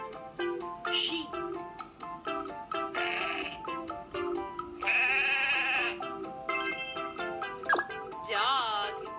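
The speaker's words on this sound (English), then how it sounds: "Sheep." Sheep bleats ring out several times over a bright, tinkling musical backing, each bleat short and wavering, fairly close and clear.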